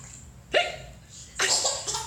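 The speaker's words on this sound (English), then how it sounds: "It's hard to stand up when you have the hiccups." Two sharp hiccups about a second apart, close and fairly loud, each a sudden voiced gulp with a brief tail.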